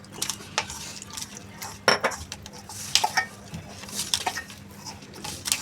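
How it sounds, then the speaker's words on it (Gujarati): Maize flour dough being kneaded with water gives soft, irregular knocks and light metallic clinks against a bowl, quiet and close, with no voices. "પાણી ઉમેરીને આવી રીતે લોટ બાંધવાનો છે."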